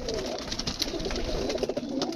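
A pair of teddy pigeons coos softly, low throaty calls repeating over a faint background hum, fairly quiet and close.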